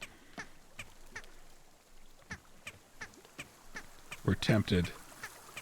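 Chicken in the video game Wanderstop clucking rhythmically while carried, a series of short regular squawks about every half second, followed by a louder cluster of calls, with a voice speaking briefly over them.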